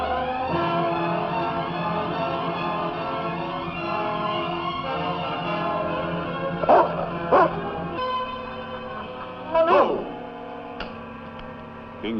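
A sled dog team barks and yips in short bursts, fairly distant, over a steady low hum and droning background.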